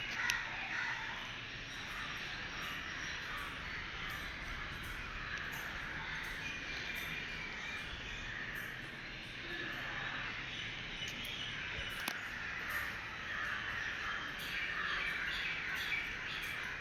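Crows cawing among chirping parrots and sparrows around a Sai Baba temple on the coast road, a busy, continuous chorus of calls at moderate distance with repeated sharp caws.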